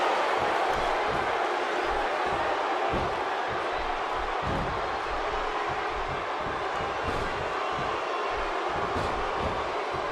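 Arena crowd in WWE 2K16 wrestling, a dense continuous roar of fans filling the space, loud and steady with low thumping pulses underneath.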